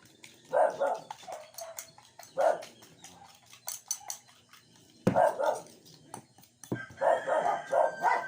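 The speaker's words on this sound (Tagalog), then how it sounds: "Ang ingay na naman ng mga aso eh." Several sharp dog barks come in irregular bursts, close by, with scattered clatter and faint background noise between them.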